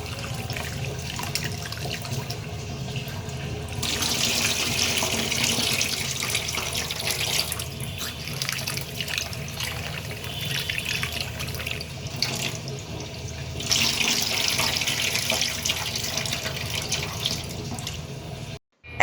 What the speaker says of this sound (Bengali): এবার ডাল আবার ১ থেকে ২ বার ধুয়ে নিলাম।